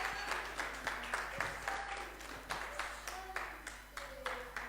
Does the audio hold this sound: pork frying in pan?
no